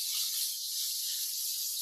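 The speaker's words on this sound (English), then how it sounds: "That's the song of the steak cooking." Steak sizzling in browned butter in a hot pan, a steady bright hiss and crackle held at even loudness for the whole moment, close and alone with no talking.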